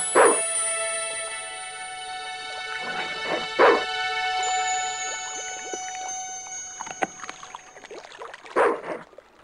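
A dog in the Broken Sword 2 PC adventure game barks a few sharp times, with whimpers and yips between the barks over a steady musical tone.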